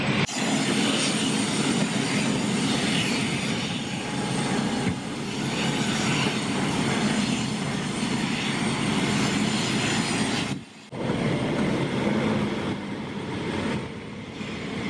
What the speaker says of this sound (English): we get to watch and hear all the airplanes leaving.